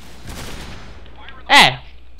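A single sharp gunshot from a Ranger .338 rifle cracks out in the video game Point Blank, loud and close, over faint background speech and low game ambience.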